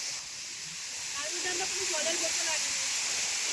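Changey Waterfall at Kolakham in North Bengal roars as a constant broad rush of falling water, loud and steady with no breaks, while faint voices murmur beneath it.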